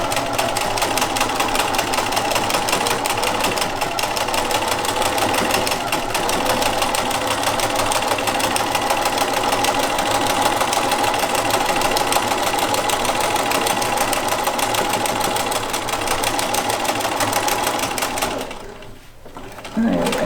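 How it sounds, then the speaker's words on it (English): A sewing machine stitches a zipper bag, back stitching and then stitching forward in a steady, continuous mechanical hum and rapid needle clatter that runs almost unbroken before a brief pause at the end. "And then I'm gonna back stitch a little bit and then front stitch."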